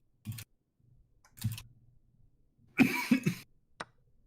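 A person coughs several times in short bursts during a casual chess game, with a louder cluster of coughs near the end and faint background noise between them, no one talking.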